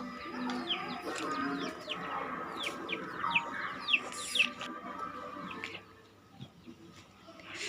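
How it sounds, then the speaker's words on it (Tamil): Several chickens clucking and calling nearby, a busy cluster of short clucks over a murmur of background noise, thinning out toward the end. "ஸோ கோழி இருக்குங்க."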